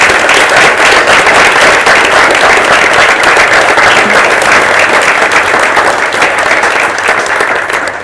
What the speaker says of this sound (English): if you can join me for another round of applause for Ramanique